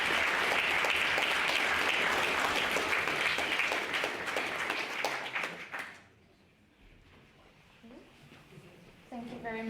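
An audience at a debating society applauds the society's secretary, loud sustained clapping that ends abruptly after about six seconds, followed by quiet room noise and a voice starting to speak.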